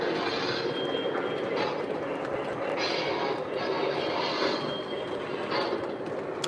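A Lionel model train rumbles steadily along its track with a continuous whirring roll and faint rhythmic clicks, close by and uninterrupted.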